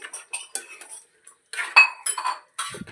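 A spoon stirs gravy in a metal pot, giving close clinks and scrapes in short irregular bursts separated by brief silences.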